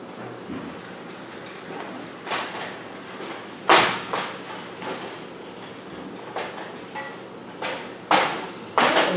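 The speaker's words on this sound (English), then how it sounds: "I'm just here chopping my beef a little bit more and kind of mixing it in and stirring it up" Beef being chopped and stirred in a pan for a taco bake, heard as a series of sharp utensil knocks and scrapes against the pan at an irregular pace, close and moderately loud over a steady background hiss.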